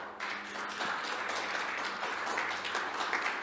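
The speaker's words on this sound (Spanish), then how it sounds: "le vamos a agradecer con un fuerte aplauso" A church congregation breaks into applause, a steady, moderately distant patter of clapping with a faint low hum underneath and no speech.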